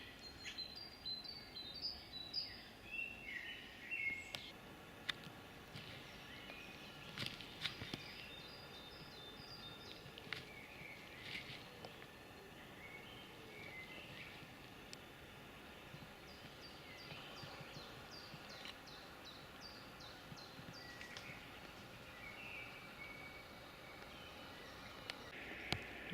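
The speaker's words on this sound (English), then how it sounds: "Just the sound of birds." Birds sing and chirp in Prague's Olšany Cemetery, with scattered high calls across a steady low hum of distant traffic, faint and continuous.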